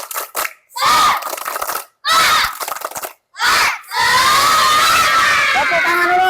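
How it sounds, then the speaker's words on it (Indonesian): Group of schoolchildren shouting a rhythmic tepuk semangat clapping chant in loud, repeated bursts separated by short pauses, ending in a sustained crowd of excited voices. "Lagi, ulang lagi. Tepuk semangat."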